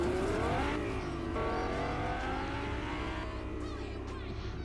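Cars race in Fortnite Creative, with loud engines revving and whining through shifting pitches, a passing roar and faint tire noise filling the whole stretch.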